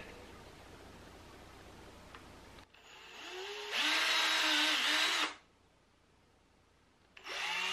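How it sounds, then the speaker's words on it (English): A power drill bores holes in a tiny piece of wood for an under-workbench drawer. The motor whines loudly for about a second and a half, then stops, and a second short burst starts near the end. No one speaks. "I probably better put a couple of drill holes in here or this might split."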